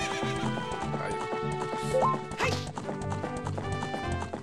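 Horse neighs and clip-clopping hooves in the game Zelda: Ocarina of Time, a clear whinny rising over steady galloping with layered game music throughout.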